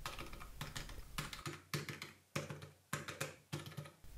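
Media keys on a Logitech G213 Prodigy membrane gaming keyboard are pressed one after another, giving a steady series of close, crisp clicks and taps in a quiet room with no talking.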